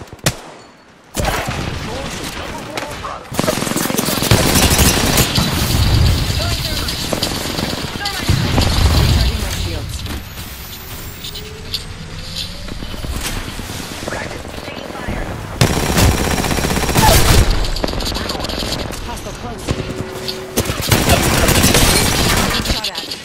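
Gunfire in a video game firefight, with bursts of automatic fire and heavy shots coming in loud waves, while a voice talks over the action.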